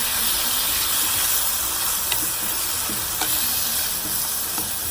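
Noodle stir-fry with oyster sauce sizzling loudly in a hot pan for Vietnamese crispy combination noodles, a continuous dense frying hiss with a few faint scrapes of stirring and no talk.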